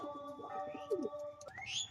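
Domestic pigeons in a cage coo near the listener with low throaty calls over a steady background, and a few thin chirps rise near the end.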